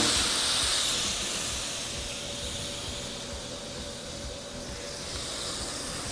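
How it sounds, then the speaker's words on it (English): Water sizzles and hisses into steam around burger patties on a Blackstone griddle, a continuous soft hiss that eases off slightly over time. "we're gonna add just a bit of water around it so that these guys will help steam"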